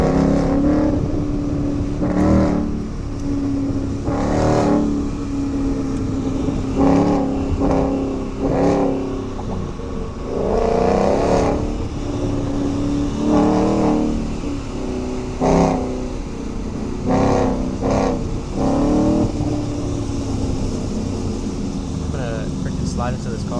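Loud Ford Mustang GT engine revving and pulling hard on wet roads in the rain, repeated surges of throttle rising and falling over constant road and spray noise, with someone talking over it.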